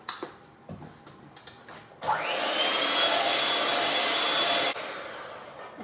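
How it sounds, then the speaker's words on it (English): Electric blender whirring through banana cake batter with oil and vanilla, starting abruptly after a few soft kitchen clatters, holding a steady loud roar for about three seconds, then cutting off. "And I'm gonna blend all this."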